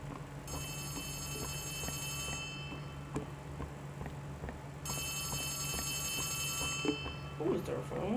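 An old telephone bell rings in two long trilling bursts inside the Poppy Playtime game, over a low droning ambience with scattered ticks and clicks, fairly faint throughout.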